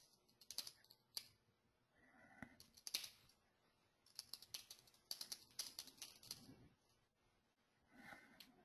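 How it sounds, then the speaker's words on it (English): Computer keyboard typing heard faintly during an online webinar broadcast, irregular bursts of quick key clicks separated by short pauses, with some low background noise between them. "I hear somebody typing."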